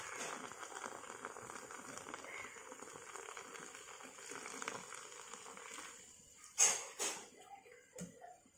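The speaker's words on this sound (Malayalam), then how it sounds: "സോഡയൊക്കെ വന്നിട്ട് പതഞ്ഞു വരുന്നുണ്ട് കേട്ടോ" Cold soda poured for a refreshing summer drink fizzes with a steady, dense crackle of bursting bubbles, close and fairly quiet, followed by a few louder clinks and splashes near the end.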